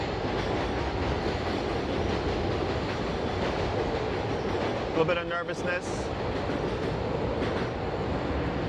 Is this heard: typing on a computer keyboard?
no